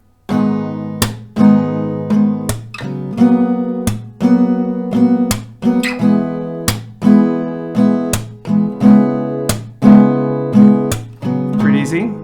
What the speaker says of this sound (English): And with the chord progression, it sounds like this